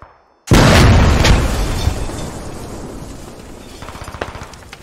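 A grenade goes off in the video game Squad with a sudden, loud boom after a brief near-silence, then a long rumbling decay that fades over several seconds, with a few faint pops near the end.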